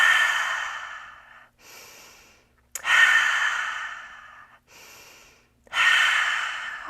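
Deep, audible breathing during a held plank pose, three long drawn breaths with short quiet pauses between them, close and fairly loud with no talking.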